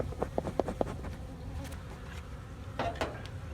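Honey bees from a strong hive hum faintly and steadily during a hive inspection, with a few soft taps and knocks near the start and again toward the end.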